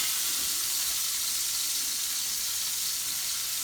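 Swaggerty sausage frying in a pan makes a steady, even hiss of sizzling grease, fairly quiet and unbroken, with no voices.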